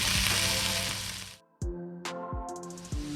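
Food frying in hot oil for a donkey Wellington, a loud, dense sizzle that drops away abruptly, then returns more softly with sharp bursts as pieces go into the pan; close, no talk.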